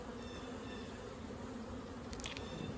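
Honey bees from a strong overwintered colony during a hive inspection, a continuous close buzzing drone of many bees with a few brief higher whines, no talk.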